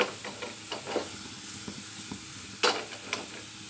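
Kashmiri red chilli and spices sizzle steadily in hot oil while a spoon scrapes and stirs the pan in short, repeated strokes, close by.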